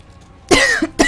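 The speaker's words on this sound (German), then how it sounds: "Entschuldigung fürs Husten." A single loud, close cough, followed by a couple of short, rough bursts as the throat clears.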